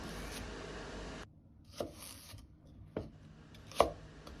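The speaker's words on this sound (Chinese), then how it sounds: "先把西芹切成細條" A knife chopping celery into thin strips on a cutting board, a few separate sharp taps spaced apart against quiet background hiss.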